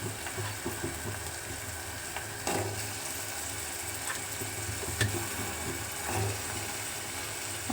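Tomato, onion and green chilli curry frying in a pan: a steady, continuous sizzle with faint scattered scraping and clicks throughout, no voices.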